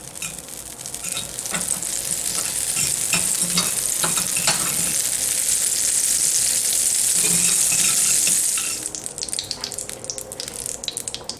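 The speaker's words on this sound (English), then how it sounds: "we have heated these pans dry. And now, all we need to do is add a pat of butter" Butter sizzles and fries loudly in a dry-preheated Star Wars cast iron pancake skillet, a steady hiss with scraping stirs, fading near the end to lighter crackles and clinks.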